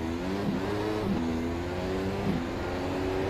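A McLaren-Honda MP4-30 Formula 1 car in the iRacing sim at Circuit of the Americas drones steadily, its engine note rising and dipping through a few quick gear changes, with no voices.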